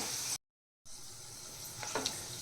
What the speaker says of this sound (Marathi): छान मस्त फ्राय होतो आहे इथे आपला बटाटा